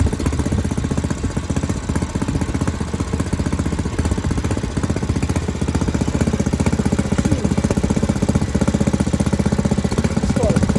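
A homemade tractor drives along with its engine chugging loudly and rapidly in an even, steady rhythm throughout.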